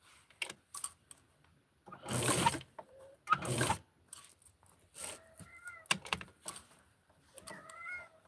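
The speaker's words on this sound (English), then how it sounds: "That's my kitty cat." A pet cat meows a few times in a quiet indoor room, short rising cries near the end, mixed with scattered clicks, rustles and a couple of louder bumps.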